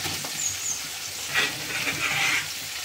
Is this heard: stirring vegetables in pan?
yes